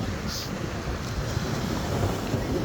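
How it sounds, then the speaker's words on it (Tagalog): Strong sea waves at night off Dinahican, a continuous rough wash and rumble of surf mixed with wind buffeting the microphone, steady and fairly loud with no clear voices. "lakas ng alon"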